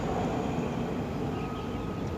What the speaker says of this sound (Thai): นกใหญ่ก็คือเครื่องบินมันติดสนามบิน